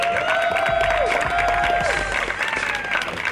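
A French television studio audience applauding loudly for contestants entering the stage, dense continuous clapping with a few sharp close claps, under sustained tonal show music and a brief sweeping effect.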